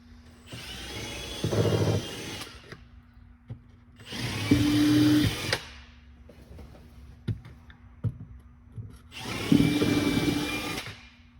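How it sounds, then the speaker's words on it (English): A power drill whirs through a car floor mat in three separate bursts of a few seconds each, loud and close, with short pauses and faint clicks between. "we want you to drill all 3 holes through the floor mat"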